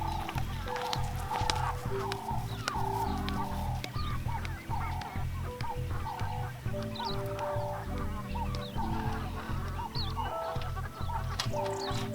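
Backyard chickens make repeated clucks and honk-like squawks close by as they gather at feeding time, a steady busy flock chatter with no talking.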